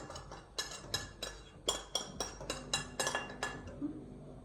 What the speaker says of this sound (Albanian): Vazhdo ti me përzirje.